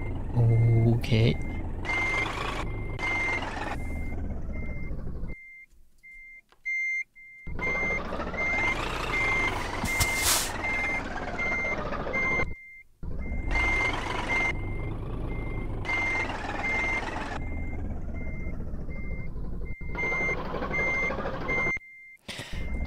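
A truck reversing in Scania Truck Driving Simulator, evenly spaced electronic reversing beeps repeating over a low diesel engine rumble, cutting out and resuming several times while someone talks.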